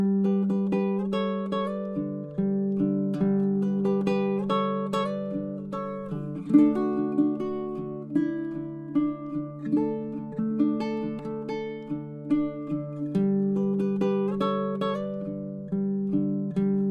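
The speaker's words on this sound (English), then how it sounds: "what I call sympathetic vibration, which is when I play a note" Plucked baritone ukulele notes ringing out in a gentle melodic pattern, with sympathetic string vibration sustaining overtones between strums, played solo and up close.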